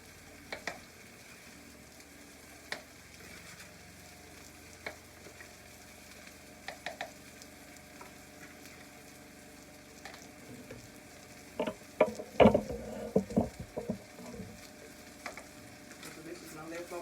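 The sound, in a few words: meat searing in a pan for pot roast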